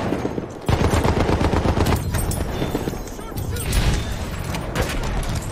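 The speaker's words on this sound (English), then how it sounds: "Martini Henry headshot" Gunfire in the video game Battlefield 1, including a Martini-Henry rifle, heard as a loud, dense stretch of shots and battle noise with sharp cracks near the start and again later.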